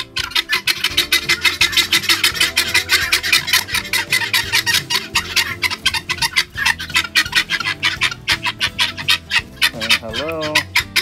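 Guinea fowl on a 2.5-acre farm calling loudly and continuously in a repetitive, rhythmic chatter, close by, with other poultry sounds and brief talk near the end.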